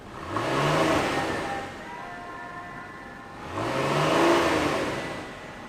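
A 2017 Ford Explorer's 3.5 liter twin turbo V6 engine revs up twice, rising in pitch with a roar each time, separated by a steadier idle-like hum in between.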